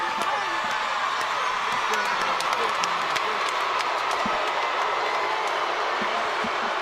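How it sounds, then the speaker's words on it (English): Spectators at a boxing match between AnEsonGib and Tayler Holder cheer and applaud steadily in a dense, continuous wash of claps and crowd roar, moderately loud throughout. "The crowd showing their approval and their appreciation."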